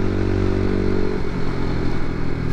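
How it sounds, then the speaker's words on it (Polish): A 2021 Romet SCMB 125 motorcycle exhaust while riding: a loud, steady low engine drone that shifts pitch midway as the bike changes speed, continuous throughout with no talk. "W ogóle też dźwięk tłumika wydechu jest całkiem przyjemny."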